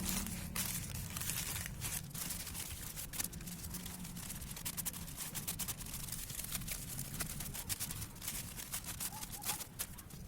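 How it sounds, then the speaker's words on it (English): An 8-inch plastic nursery bag for transplanting marigold seedlings crinkles and rustles up close, with a steady stream of crackling handling noise over a low background rumble. "I'm going to use this 8-inch nursery plastic bag to transplant the seedlings."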